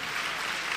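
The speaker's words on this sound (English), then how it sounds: "Let them do another round of applause for the millionaires and the millionaires in the making." Dense, continuous clapping from a large audience at a business event, a steady wash of applause with no pauses.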